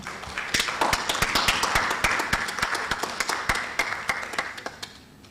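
Audience applause welcoming a speaker at a conference annual general meeting, a steady burst of many hands clapping with sharp individual claps standing out, sustained for several seconds and slowly thinning toward the end.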